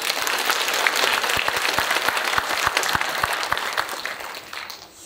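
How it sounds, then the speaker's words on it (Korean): Workshop audience applauding together at a company plan announcement, dense steady clapping from many hands that thins and fades near the end. "서로 박수 한번 부탁드리겠습니다"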